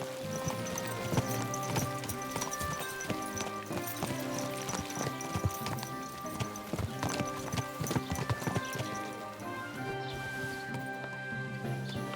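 Horse hooves clip-clop in a steady, brisk rhythm in the video game Kingdom Come: Deliverance II, over a busy mix of music and ambient game sounds.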